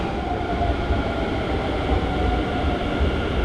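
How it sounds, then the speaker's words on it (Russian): A high-speed train in Taiwan rumbles steadily at close range, a continuous low droning roar with faint rattling, and no voices. "И я сажусь вот на этот поезд."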